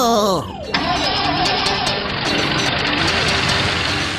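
A car engine cranks and catches, then settles into a loud, steady running roar close by. It follows a brief burst of a rising tone at the start.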